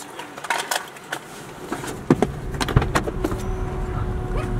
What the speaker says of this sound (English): The car running.